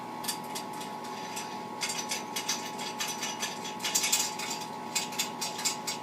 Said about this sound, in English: So I'm going to pull those slides out to get ready for a bath.